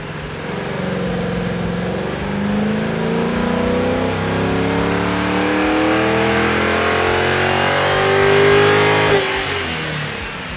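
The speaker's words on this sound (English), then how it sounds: "which we'll prove by first doing a baseline dyno test using the factory air intake system" A car engine on a dyno revs through a full baseline pull with the factory air intake, rising steadily in pitch as it climbs under load, loud and close, then easing off near the end.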